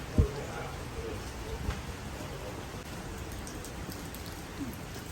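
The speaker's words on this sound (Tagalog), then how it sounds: "Grabe, ang pino ng ulan." Fine rain falls steadily as a soft continuous hiss outdoors near Vancouver, moderately quiet, with a couple of faint knocks and a brief voice underneath.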